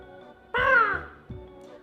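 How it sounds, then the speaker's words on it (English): A single loud, harsh shriek from a green bird flapping out of a tree, used as a storytime sound effect, rises suddenly, holds for about half a second, then fades. A quieter second call follows close behind. "with an ear-splitting shriek, there flapped a green bird,"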